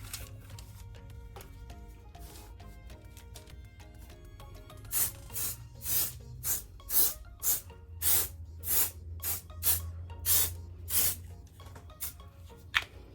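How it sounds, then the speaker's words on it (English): A series of short, sharp mold release spray bursts, about a dozen in quick rhythm, on an epoxy resin mold, following quieter rubbing and handling sounds; close and fairly loud. "And then you just give it another quick spray."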